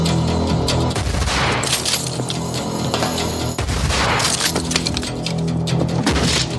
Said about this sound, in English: they had squibs go off to blow up the door